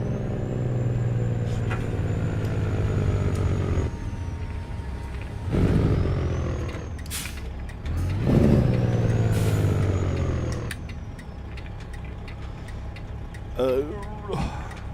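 Heavy truck engines and air-brake hisses from passing traffic in a truck racing game, with a Freightliner cab-over and a Peterbilt 379 rumbling along; the engine drone rises and falls in swells while people talk over it.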